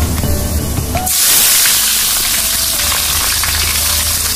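Onions hit hot oil seasoned with cumin and nigella seeds in a kadai, a loud burst of sizzle at about one second that settles into steady, dense frying hiss close by with no talk.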